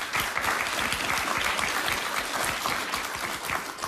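A studio audience at a live Bill Maher taping claps, a dense, even wash of applause from a large crowd, heard slightly distant and steady throughout.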